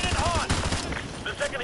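Gunfire in Modern Warfare 2 Remastered, a dense run of rapid shots in the first half that eases into a noisy, rumbling spell with faint background voices.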